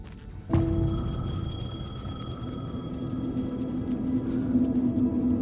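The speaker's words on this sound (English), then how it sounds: "The payphone was ringing." A payphone rings in the video game Alan Wake 2, a steady electronic ring that starts abruptly after half a second and holds, sustained and fairly loud, until the end.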